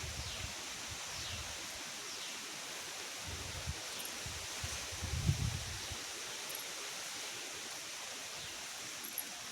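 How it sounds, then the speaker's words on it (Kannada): Strong wind rushing through leaves under a heavily clouded sky, a faint, steady rustling roar with low gusty rumbles and no talk. "ಸಿಕ್ಕಾಪಟ್ಟೆ ಗಾಳಿ"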